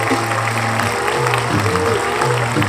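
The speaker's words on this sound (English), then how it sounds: "Round of applause, Flavormatic" Clapping for a sample-flip contest winner on a hip hop podcast, steady, busy hand claps running the whole way, with talking voices underneath.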